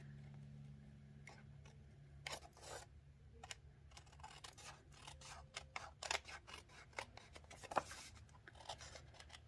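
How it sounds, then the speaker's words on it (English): Metal snips cutting through paper while a floral stamped hello card is assembled, giving a string of short crisp snipping clicks, close and fairly quiet, some spaced and some in quick bursts, with no talk. "we'll take our snips and we will just cut along here"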